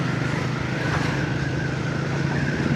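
A Triumph Speed 400 motorcycle cruising at around 30, a steady low engine drone with constant wind and road rumble, close and even throughout.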